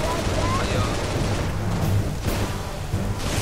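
Rapid gunfire from a carbine-style weapon in Halo Reach with the Prometheus mod, bursts of shots repeating over steady game noise and a low background rumble.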